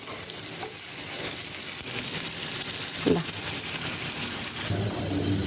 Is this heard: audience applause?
no